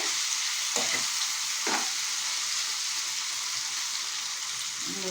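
Eggplant curry made with home-grown organic vegetables sizzles and fries steadily in a pan, with a couple of brief stirring scrapes over the constant hiss.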